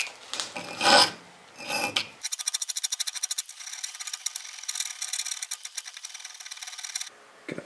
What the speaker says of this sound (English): These are tungsten carbide, so that will keep my little square file from scratching into it